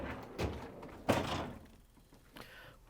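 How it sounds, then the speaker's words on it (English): LG/Kenmore refrigerator freezer door being opened, giving a soft thunk followed by a louder seal-release thump and a faint later rattle, quiet and close in an indoor room. "In order to change the part, we have to open up the freezer door"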